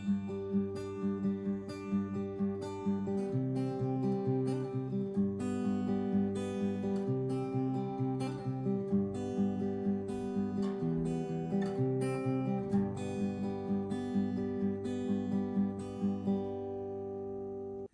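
An acoustic guitar plays the intro of a song at regular speed, with picked notes ringing over sustained chords in a steady, close, solo performance for about eighteen seconds without any voices.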